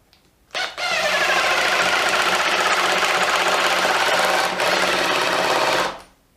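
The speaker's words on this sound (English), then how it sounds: "let's get the Makita going. Right, now the Makita is in its first speed" A Makita hydraulic impact driver runs in its first speed: a sudden start into a loud, close, steady buzzing whir with a fast rattling pulse, a slight dip midway, then an abrupt stop after about five seconds.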